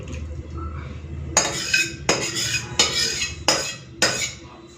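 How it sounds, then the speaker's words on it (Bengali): Cooked rice is served from a clay pot with a ladle, giving four loud, close scraping scoops with clinking at a steady pace, after a quiet start. "এরপরে ভাতটা বেড়ে নিই আর ডিমের কারিটা নিয়ে নেবো"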